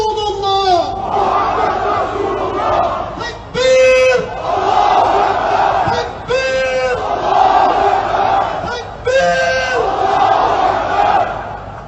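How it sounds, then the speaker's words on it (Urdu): A large street crowd in Europe chants the takbir slogan Allahu Akbar in loud, repeated collective bursts, one roughly every two to three seconds, over a steady roar of crowd noise. "تکبیر اللہ اکبر کے نعرے بلند کر رہے ہیں"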